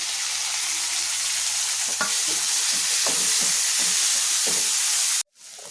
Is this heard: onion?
yes